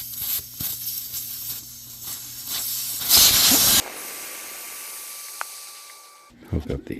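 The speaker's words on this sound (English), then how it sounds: "So let's let the air out of this tire." Compressed air hisses loudly for under a second as a 205/60 R15 car tire is deflated from 30 psi, amid clicks and handling noises, followed by quiet with a faint steady tone.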